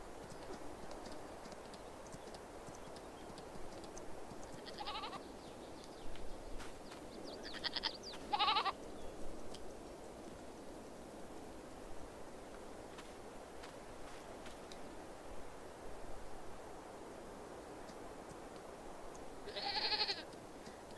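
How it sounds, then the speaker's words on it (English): Goats bleat on a farm in Farming Simulator 22, a few short bleats at moderate distance over a faint steady ambient background, spaced several seconds apart. "Oh, I have goats over here too."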